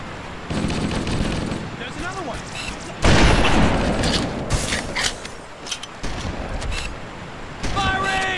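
In the video game Halo CE: Project Lumoria, weapons fire in loud, dense automatic bursts with mechanical clanks and creaks between volleys, broken by brief quieter gaps.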